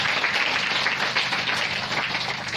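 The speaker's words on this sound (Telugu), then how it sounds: "గట్టిగా చప్పట్లు కొట్టి ప్రభువుని ఆయన కోరుతాం" A church congregation at a Pentecostal service claps loudly together, a dense, steady wash of hands close by with no pauses.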